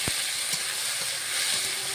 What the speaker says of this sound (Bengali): নেড়ে চেড়ে ভাজা ভাজা যখন হবে, তেল ছেড়ে দেবে